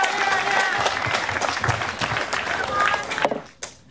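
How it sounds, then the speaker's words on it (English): Crowd at a police recruits' graduation ceremony breaks into sustained applause, dense clapping filling the hall before tapering off at the end. "Give them a round of applause."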